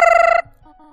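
A phone in the video game Undertale rings with a loud, bright electronic trill for under half a second, then cuts off, leaving faint low game tones behind.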